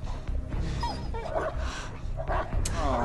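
A dog whimpers and yips in the video game Beyond: Two Souls, giving short high whines and cries over game sound and a low rumble, with players talking over it.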